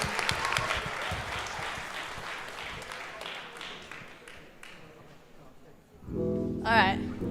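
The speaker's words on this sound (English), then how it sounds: "can we give a round of applause to Jim Thompson, for putting this thing together?" Applause from a crowd at a high school battle-of-the-bands concert, a broad clapping wash that fades over several seconds before a voice speaks over a loud amplified passage near the end.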